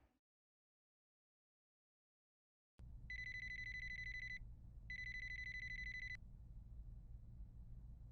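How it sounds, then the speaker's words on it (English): An alarm rings in a video game: after a stretch of silence a background rumble starts, then two bursts of a bright electronic trilling ring, close and loud over the low hum, with no voices. "Turn off the alarm."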